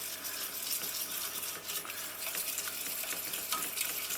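A pan sauce being stirred as oat milk is added, soft scraping swirls over a faint bubbling sizzle, close and continuous with no talking.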